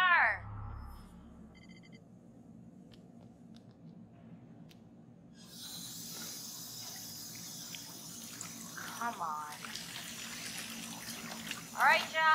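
A tap runs in a lodge in the horror game Until Dawn, water pouring steadily under low ambient music, while a brief voice speaks at the start.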